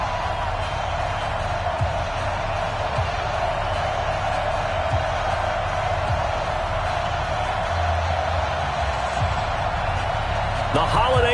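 Steady, loud stadium crowd roar from an NFL video game on PS4 at a New York Jets vs Atlanta Falcons matchup, a continuous wash of noise that holds for the whole stretch and swells slightly near the end.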